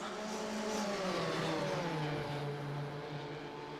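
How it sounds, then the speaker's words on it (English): A 1958 Formula One race car in a racing video game at the Belgian Grand Prix, its engine note dropping as it downshifts before a corner, a loud, continuous close roar with falling pitch. "Downshifting now for the next corner."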